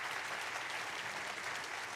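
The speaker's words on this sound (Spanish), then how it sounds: "Vamos a darle un aplauso al Señor." A church congregation applauding, dense steady clapping from many hands that fills the whole stretch at moderate level, with no distinct voices.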